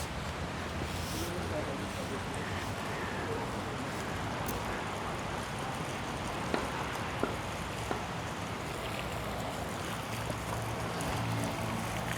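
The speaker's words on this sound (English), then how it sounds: "The water feature is beautiful." Water feature at a high school in Middelburg, Mpumalanga, South Africa, giving a steady broadband rush of flowing water close by, with a few faint clicks over it and voices talking nearby.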